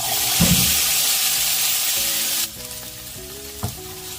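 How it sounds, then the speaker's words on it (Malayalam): Okra sizzling as it frys in hot coconut oil, a steady loud crackle with a burst as the pieces go in, then stirring clatter as the hiss drops partway through. "വെളിച്ചെണ്ണ ചൂടായി അതിലോട്ട് നമുക്ക് ആ വെണ്ടയ്ക്ക് ഇട്ട് കൊടുക്കാം"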